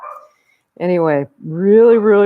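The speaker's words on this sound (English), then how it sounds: "I apologize for the dog in the background." A dog in the background gives two drawn-out, whining bark-like calls near an indoor exercise instruction, with a voice speaking briefly before them.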